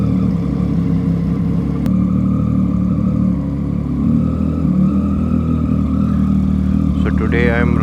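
A motorcycle rides along a road toward Lonavala, its engine humming in a steady low drone with wind rumble, while someone talks over it throughout.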